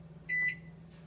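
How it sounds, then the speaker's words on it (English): A kitchen countdown timer for boiling eggs goes off with one short, bright electronic beep over a low steady hum, then stops. "it's been 13 minutes and the timer went off"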